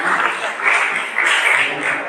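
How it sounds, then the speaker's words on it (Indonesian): Audience applause at a church gathering in Indonesia, a dense, steady wash of many hands clapping together that swells and dips slightly without pause for about two seconds, with no speech over it. "Tepuk tangan berdua."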